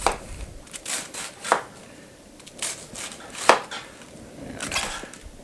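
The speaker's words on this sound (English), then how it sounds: "I'm going to use my handy dandy knife and just try to cut it thin" A knife slicing a cabbage thin on a board for sauerkraut, with crisp, irregular chopping strikes at a steady working pace, fairly close and clear with no talk.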